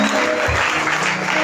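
A church congregation at a Tuesday worship service applauds, dense steady clapping filling the room with no gaps for the short stretch.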